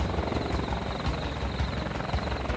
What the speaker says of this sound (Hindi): रॉबिन्सन हेलीकॉप्टर उस पथरीली छत पर धीरे धीरे नीचे उतरने लगा।